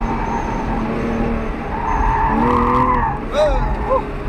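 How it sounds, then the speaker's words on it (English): A Porsche 911 drifting through an autocross course, its tires squealing and scrubbing in long wavering skids over a steady engine drone, loud and close, with someone talking over it. "he had a lot of drifting and was scrubbing off some speed here"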